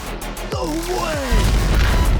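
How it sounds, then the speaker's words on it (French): A cartoonish explosion effect bursts from a LEGO build in a Minecraft-themed scene: falling whistling tones sweep down into a heavy low rumble that lingers, loud and under background music. "Même Michael Bay approuverait cette explosion."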